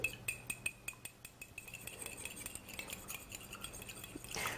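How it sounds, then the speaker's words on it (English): Three eggs beaten in a bowl, a quick series of close metallic clinks of utensil against the dish that slows and softens into a quieter, faster stirring rattle. "what I've got, 3 eggs here, I'm just going to beat them"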